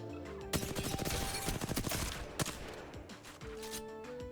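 Weapon fire during shooting practice in Apex Legends, a rapid burst of gunshots over continuous game sound, fairly loud and close.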